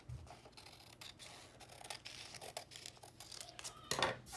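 Scissors cutting across a single sheet of paper, a series of quiet, close snips and crisp rustles that grow a little louder toward the end.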